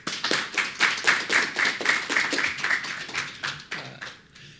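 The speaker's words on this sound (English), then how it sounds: "Let's give him a round of applause." A conference audience at PyOhio 2024 applauds a speaker taking the stage, a brisk burst of many clapping hands that fades out toward the end, with no talking.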